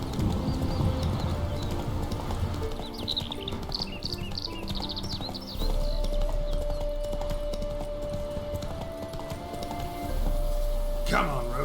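Roach the horse gallops in The Witcher 3, a steady rhythmic clip-clop of hooves running throughout with occasional birdsong and someone speaking over it.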